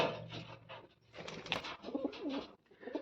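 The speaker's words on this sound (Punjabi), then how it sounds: "ਚਿੱਟੀਆਂ ਅੱਖਾਂ ਦਾ ਕਬੂਤਰ ਹੈ" A pair of white-eyed pigeons coos close by in repeated low, throaty phrases, with short pauses between the calls and no talking.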